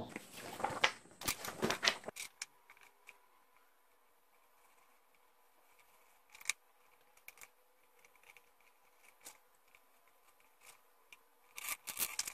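Scissors cut out a paper geometry set square, with bursts of crisp snipping at the start and a few isolated snips and rustles later, separated by long quiet stretches.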